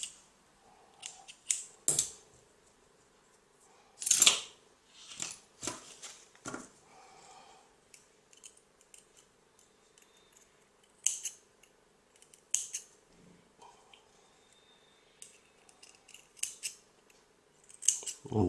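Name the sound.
scissors cutting vape coil wire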